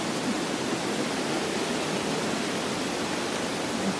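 Sekumpul waterfall in Bali roars close by, a steady, dense rush of falling water that fills every moment with no pauses or voices.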